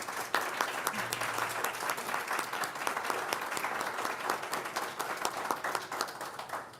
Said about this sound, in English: Audience, please join me in thanking the candidates with your applause.